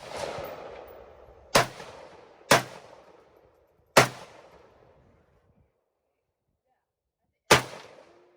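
AK rifle shots fired outdoors at a practice range, four loud single cracks spaced a second or more apart, each followed by a long rolling echo, then a pause before a fifth shot.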